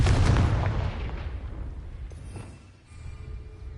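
A Confringo fire-blast spell explodes in the Hogwarts Legacy video game, a loud booming burst that opens strongly, then decays into rumbling rubble and crackle before a softer second swell near the end.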